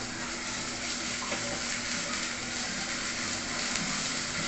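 Ginger-garlic paste sizzles steadily in a hot pan of oil while fish curry is being made with surmai fish, a dense, close crackle with no voices.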